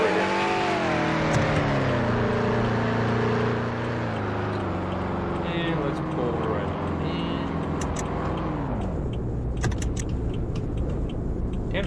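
Car engine in Roblox Greenville, a newly acquired car driving with steady humming revs that climb and shift through gears, then ease off, while several people talk over it.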